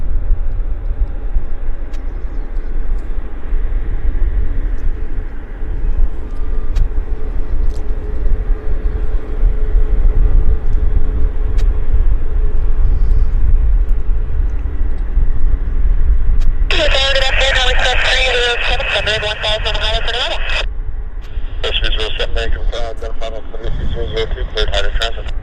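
An Air India airliner arriving at Vancouver airport, a steady broad engine roar rumbling continuously throughout, with a separate bright electronic tone burst cutting in over the last stretch; people talk over it.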